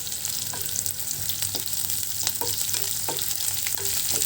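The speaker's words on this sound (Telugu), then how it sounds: "ఇది బాగా తాలింపు బ్రౌన్ చేసుకొని" A tempering of lentils and spices browning in hot oil hisses in a steady near fry, broken by light utensil taps as it is stirred, with no voices.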